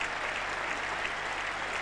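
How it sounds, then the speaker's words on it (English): Spectators at the 1981 Oval Test against Australia clap for a batsman's half century, a dense, steady roar of applause from a large crowd, moderately distant and unbroken. "Applause for the half century, his third half century of this Test match series."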